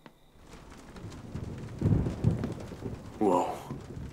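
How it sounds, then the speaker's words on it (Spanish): Thunderstorm rolling in outside an abandoned asylum, with low rumbling thunder swelling twice mid-clip and a louder crack near the end over a steady wash of rain. "Se acercó una tormenta."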